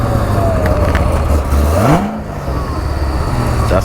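Sports car engines, including a Yamaha R6, accelerate hard in a roll race, giving a loud, steady roar with one rising rev sweep and a brief dip before the roar returns.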